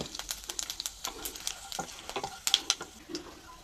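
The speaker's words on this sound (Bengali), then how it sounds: "এই তেলের মধ্যে আমি শুকনা লঙ্কা ছিঁড়ে দিয়ে দিচ্ছি গোটা জিরিয়া দিয়ে দিচ্ছি" Dried red chillies and whole cumin seeds crackle and spit in hot oil, a quiet scatter of sharp pops and sizzles with no voices present.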